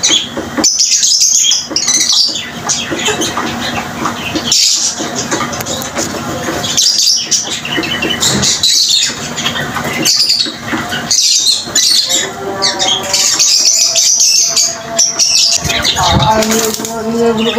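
Pigeons flapping their wings and squawking, with bursts of wingbeats and scattered calls throughout, loud and close, with brief pauses between flurries.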